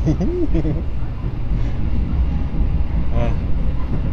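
Steady rumble and rushing noise from inside a fast passenger train on the Manahan service running straight through Bekasi station without stopping, continuous and loud, with a voice talking briefly at the start.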